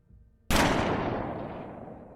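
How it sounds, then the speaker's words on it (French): A single loud gunshot sound effect in a tabletop role-playing game, cracking sharply out of near silence and leaving a long, fading reverberant tail. "Vous entendez un coup de feu."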